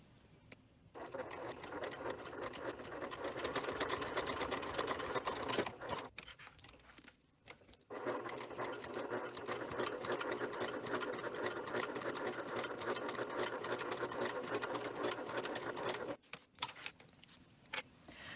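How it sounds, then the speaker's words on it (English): A sewing machine stitches a leather wallet in long, steady runs of rapid needle clatter, with brief pauses around the middle and near the end, heard close and alone. "So let's head over to the sewing machine."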